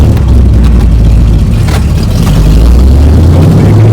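A 1963 Corvette Grand Sport engine rumbles loudly and continuously at close range, a deep throbbing drone with slight shifts in pitch as the car drives along.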